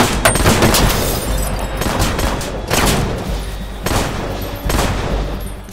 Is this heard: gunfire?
yes